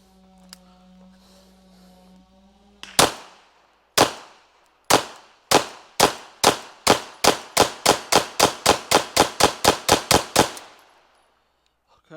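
An LFA Apollo 11 pistol, a 2011-style handgun loaded from a 21-round magazine, fires loud, close shots: three spaced rounds, then a fast steady string of about fifteen more, each with a short ringing decay, ending in quiet.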